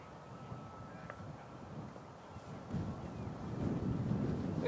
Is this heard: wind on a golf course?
yes